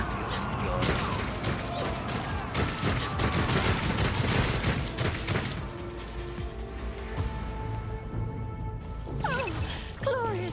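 Gunfire and clattering combat mechanisms in the tactical game Warhammer 40,000: Rogue Trader, a dense volley of shots and metallic clanks under background voices, fading into quieter tonal effects.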